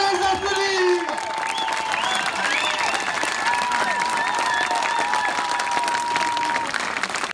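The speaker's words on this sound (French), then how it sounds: "On peut les applaudir." An outdoor village crowd applauds after a drag queen musical comedy show on a large stage, with strong continuous clapping and a few cheers at the start, sustained for about seven seconds.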